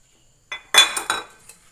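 Chicken is dropped into a metal bowl with a few sharp metallic clinks and clatters. A quick cluster of dish knocks is followed by a fainter clink, in a quiet kitchen with no talking.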